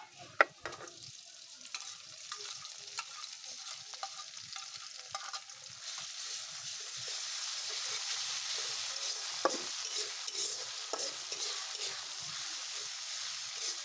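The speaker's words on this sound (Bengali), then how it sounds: "নেড়ে একটু ভেজে নেব ভালো করে" Ground ginger, garlic, onion and cumin paste frying for beef bhuna, with a steady bright sizzle that swells over time and soft stirring scrapes, with no voices.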